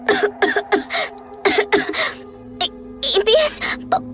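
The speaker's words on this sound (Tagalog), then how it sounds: "Umubo siya" A woman coughs repeatedly in a Filipino horror audio drama, harsh bursts in quick clusters with short pauses, close and loud, ending in a strained, throaty cough.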